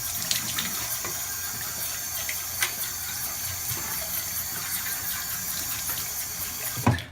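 A bathroom tap runs steadily while someone rinses their face at the sink, a continuous close splash with occasional louder bursts of water.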